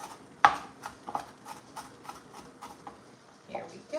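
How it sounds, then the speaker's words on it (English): A knife minces red onion on a cutting board in a home kitchen, making sharp, separate taps in an irregular rhythm, close and moderately loud, with faint room sound between strikes. "I'm just mincing it up because I like the little bit of the onion that pops here"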